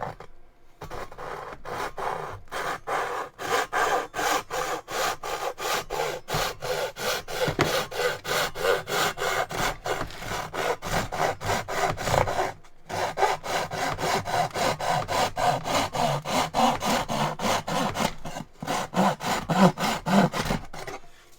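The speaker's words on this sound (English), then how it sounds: "And that's how you want to use a pull saw. Focus on the pull" A Japanese pull saw cuts through wood in steady, rapid strokes, each pull giving a rasping scrape that repeats rhythmically for the whole stretch, close and fairly loud with only one brief pause.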